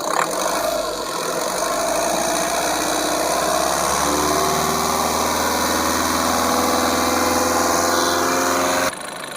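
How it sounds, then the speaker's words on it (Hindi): A Tata Nexon engine runs steadily after an overhaul, a close, continuous idle with a low rumble and faint mechanical ticking that holds even throughout before cutting off near the end. "इंजन का साउंड भी बिल्कुल ओके है"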